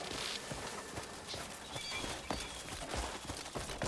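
Horse hooves clip-clop steadily at a walking pace in the open-world video game Crimson Desert, fairly quiet with no talk over them.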